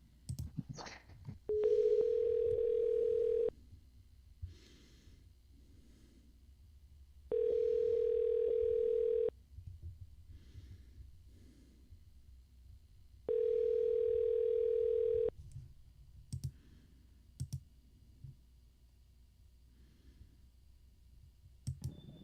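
A telephone call is placed: three long steady dial-tone beeps separated by pauses, with scattered clicks and faint background sounds between them.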